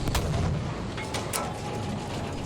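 Panzer IV tank shelling a building in Battlefield 5, a few heavy cannon booms and sharp blasts over dense battlefield rumble and gunfire, loud and close, with no talking.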